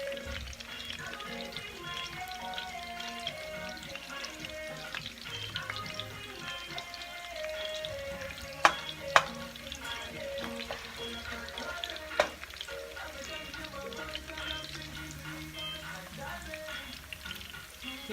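Ndole ingredients fry in a pan with broth and seasoning, a continuous sizzle broken by stirring scrapes and a few sharp utensil knocks, under light background music.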